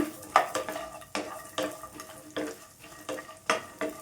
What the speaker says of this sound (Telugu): ఇప్పుడు ఒక 10 వెల్లుల్లి రెబ్బలను అయితే వేసుకుంటాను. వేసేసుకొని ఇవి కూడా మంచిగా ఫ్రై చేసుకోవాలి.